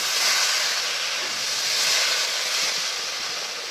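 Water poured into hot fried masala for a potato and pointed gourd curry hisses and sizzles in a steady loud wash that holds for several seconds, fading slightly toward the end.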